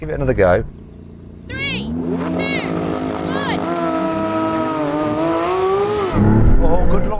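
Porsche 911 GT3 RS and Maserati MC20 sports cars racing, engines revving loudly and rising in pitch with sustained acceleration, a burst of louder noise near the end; a voice talks over parts of it.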